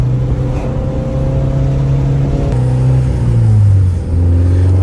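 A Honda Integra DA9 with an HKS exhaust revs loudly close by, its raspy note rising and falling through several throttle blips over a steady rumbling idle.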